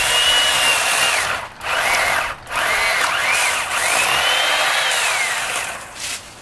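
A powered hedge trimmer cuts through a garden bush with a loud, high whine close by, its pitch sagging and recovering as it bites into branches, with two brief breaks in the motor's sound.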